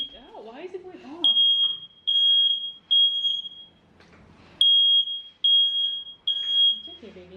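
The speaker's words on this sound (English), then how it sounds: "So it just goes off randomly" A smoke alarm shrills in repeated high-pitched beeping bursts, several long tones with short gaps, while a voice talks underneath at the start and end.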